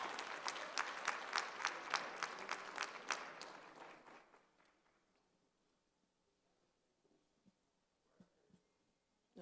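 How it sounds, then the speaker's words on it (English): A room applauds Acacia Newsom at an evening program, brisk rhythmic clapping that fades out after about four seconds, leaving near silence broken by a few faint knocks. "We're going to give her a round of applause."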